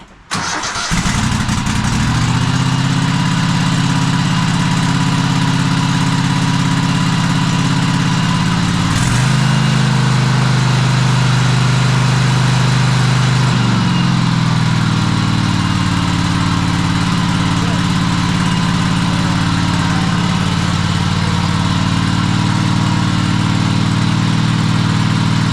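A Cub Cadet Super-LT1554 lawn tractor with over 500 hours and an oil-covered engine cranks from cold, catches, and settles into a steady, loud idle with a couple of brief shifts in pitch and no voices.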